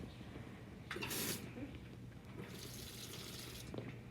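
Lab equipment is rinsed under a sink tap, giving faint running water with two brief louder splashing bursts as the stream hits the items, heard alone and quiet.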